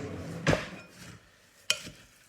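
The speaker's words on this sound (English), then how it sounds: "And then I just mix this together with a spoon." Granola ingredients mixed with a wooden spoon in a bowl: two distinct knocks of the spoon against the bowl, with soft scraping and stirring between them, close by.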